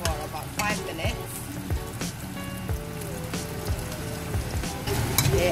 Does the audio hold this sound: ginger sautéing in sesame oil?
yes